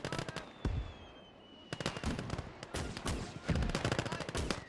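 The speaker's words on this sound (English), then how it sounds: "We have an MG34 here, and it just sounds" Bursts of rapid MG34 machine gun fire in a World War II real-time strategy game, several volleys separated by short pauses, loud and sharp against a steady background hum.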